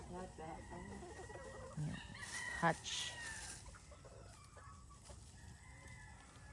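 Hens and pullets cluck and a rooster calls faintly in a quiet farmyard, with scattered soft clucks and a brief voice nearby.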